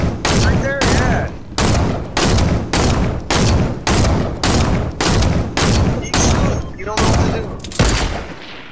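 Rapid, loud gunfire in the battle royale game Fortnite, with about a dozen evenly spaced bursts separated by brief gaps and heard up close.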